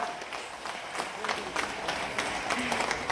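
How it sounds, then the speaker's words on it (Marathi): Audience applause at the Solapur district Maha Sarpanch honour award ceremony, dense and steady clapping from a large crowd throughout, with voices mixed in underneath. "हात वर सगळ्यांचे हात वर आणि टाळ्या जोरात झाल्या पाहिजेत."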